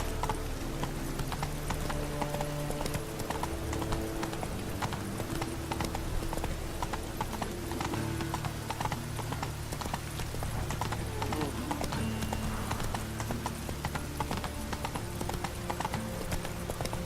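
A horse gallops in The Witcher 3: Wild Hunt. The steady rhythmic clip-clop of hooves runs throughout at close range, with an occasional whinny and a voice urging the horse on.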